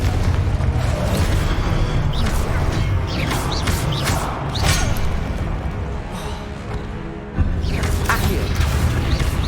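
Confringo fire spell blasts in the Hogwarts Legacy video game, booming explosive bursts and crackling impacts layered over dense, continuous battle noise and a low rumble, loud and busy for the whole stretch.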